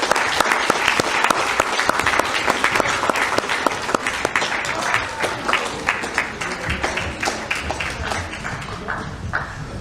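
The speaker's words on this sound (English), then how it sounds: "Let's have a large round of applause for them" Steady applause from a sizable audience at a middle school Holocaust remembrance event, dense clapping that holds strong throughout with no talking.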